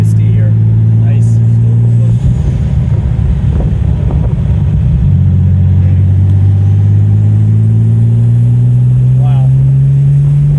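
A Porsche 930 Slantnose Turbo accelerates hard in third gear, heard from inside the car as a loud, sustained engine drone that climbs in pitch, drops at a shift and climbs again, with wind noise and occasional talk.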